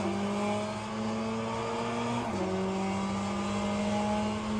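Race car engine in Le Mans Ultimate holds a steady high drone while climbing in pitch, with a brief drop partway through as it upshifts, then a long pull onward; loud, continuous and without talk.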